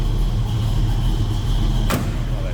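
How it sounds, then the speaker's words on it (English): The door of a 1939 Ford Deluxe Tudor sedan street rod shuts with a single sharp thud near the two-second mark, over a low steady engine idle. "Oh, that door closes."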